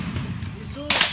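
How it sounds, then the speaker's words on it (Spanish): A single sharp accidental gunshot cracks loudly as a police officer drops a gun, after a moment of quiet background murmur. "a uno de los policías se le cae el arma y se escapa un disparo"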